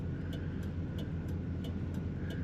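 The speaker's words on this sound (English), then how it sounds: "Just enough rumble to sound really good in this Grand Prix." A 1977 Pontiac Grand Prix LJ with column automatic gives off a low, steady engine rumble while driving in traffic, with light faint ticking, heard continuously from inside the car and with no one speaking.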